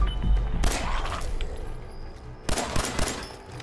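Bursts of .44 revolver gunfire in Fallout 4, a cluster of sharp shots early on, then a quieter stretch and another rapid volley near the end, with no voices.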